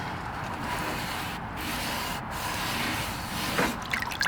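Scrubbing mineral buildup off an indoor growing system with vinegar, a continuous close rubbing and scouring with faint wet drips near the end.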